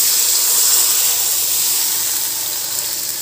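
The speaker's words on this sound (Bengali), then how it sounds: "এবার এর মধ্যে আমি দিয়ে দেব পরিমাণ মতো জল।" Water poured into a hot pan of hilsa fish curry with fried potatoes and cumin makes a loud, steady, close hiss that holds through the whole stretch and slowly eases.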